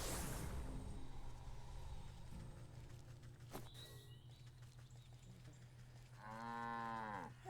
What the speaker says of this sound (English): You are a fine and handsome cow.